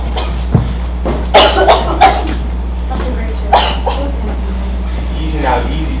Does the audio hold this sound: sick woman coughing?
yes